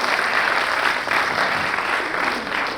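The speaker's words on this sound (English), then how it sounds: "you'll have a huge round of applause for you" An audience at a corporate HR technology event in Bengaluru gives a loud, sustained round of applause, dense crowd clapping that holds steady from start to finish.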